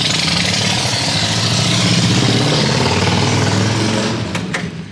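A Harley-Davidson XL883 motorcycle engine rumbles steadily and loudly up close, holding a constant drone before fading slightly at the end as the rider pulls away.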